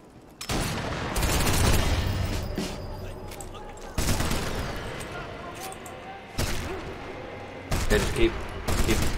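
Gunfire in the video game Sniper Elite 4, several bursts of dense shooting separated by brief pauses, loud and close, with booming impacts mixed in.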